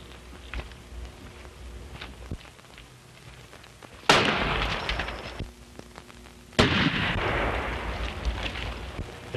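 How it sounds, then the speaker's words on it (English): Two sharp gunshots from a 1933 western film, each a loud crack with a ringing decay, a few seconds apart over quiet background hiss. "The shot came from back of those rocks."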